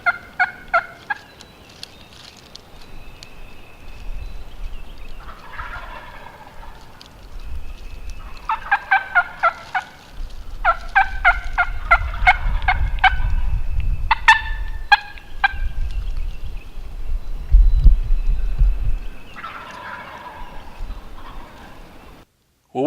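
Wild turkeys gobble repeatedly in rapid, warbling bursts, some near and loud, others farther off, with low rumbling noise underneath.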